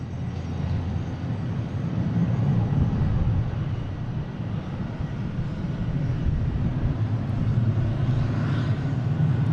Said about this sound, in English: we have very loud plane Delta 737 heading to Tampa